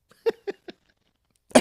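A person on a wrestling talk show coughs three short times in quick succession, close and fairly loud, followed by a brief pause and then a burst of louder sound.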